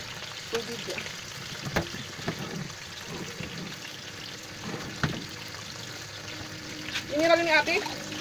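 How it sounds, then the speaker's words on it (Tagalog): Water is poured into a cooking pan with garlic for Filipino pinakbet, a faint trickle and light sizzle amid clinks of utensils, heard under a person's voice. "Tubig yan."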